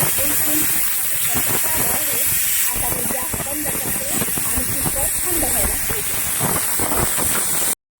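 A pressure cooker whistle lets off a loud, steady rush of hissing steam for several seconds before it cuts off abruptly, while cooking rice khichdi with dal and potato.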